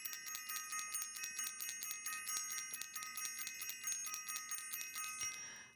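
A small bell rung rapidly and repeatedly, a bright metallic ringing that pulses in a fast steady rhythm for several seconds, close and fairly quiet, with no talking.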